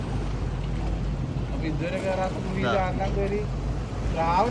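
A boat heads into a sea cave along the coast of Oman, with a constant low engine rumble and wind buffeting the microphone, while voices talk over it.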